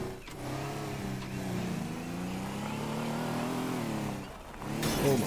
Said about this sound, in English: Oh my god, these cars are fast.